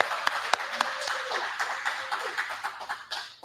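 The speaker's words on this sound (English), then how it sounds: "Let's give her a round of applause." Applause and clapping from a crowd, steady and fairly loud throughout, with a few sharper claps standing out early on.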